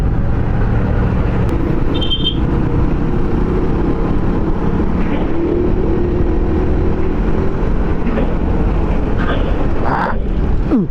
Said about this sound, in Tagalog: Ang daming mga truck.